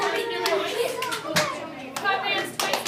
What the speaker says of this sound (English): Clap your hands 3 times to hear my voice.